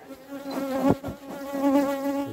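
Honeybees buzz close by at a hive on recent swarms, a wavering droning hum that swells and fades as individual bees pass near, with no voices.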